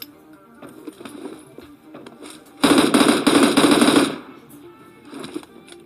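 Gunfire in PUBG, a loud burst of rapid automatic shots lasting over a second, with quieter game sounds and scattered faint shots before and after.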